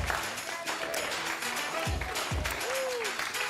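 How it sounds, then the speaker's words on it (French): A studio audience claps in a broad, steady wash on a French television game show, continuous throughout with brief pitched sound effects rising out of it near the end. "On applaudit Sonia."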